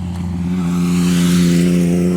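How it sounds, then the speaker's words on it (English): A motorcycle engine drones steadily and loudly close behind a speaker, a low, even hum that barely changes in pitch. "It looks like I got somebody right here behind me with a motorcycle"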